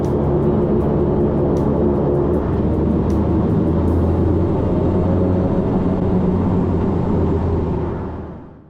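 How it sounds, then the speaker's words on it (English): Aircraft engines run up loud and steady during a full brake function test on the ground before taxiing at King Island airport, a sustained roar that fades toward the end. "This is a full brake function of the aircraft."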